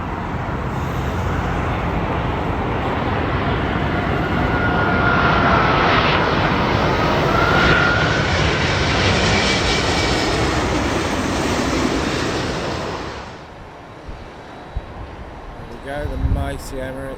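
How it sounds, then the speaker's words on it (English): Emirates Airbus A380 four-engine jet at Heathrow Airport, a loud sustained broadband engine roar holding steady for about thirteen seconds, then dropping away abruptly into quieter background with a few faint knocks. "There we go, the mighty Emirates A380."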